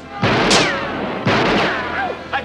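Gunshots in the 1985 film Clue: two loud sharp blasts about a second apart, each ringing on briefly, with voices talking around them.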